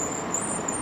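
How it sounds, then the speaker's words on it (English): Steady roar of road traffic passing close by, a continuous dense wash of engine and tyre noise with no gaps, heard from the roadside while riding an electric fat-tire trike. "I am going to pull over, kind of get away from the traffic noise"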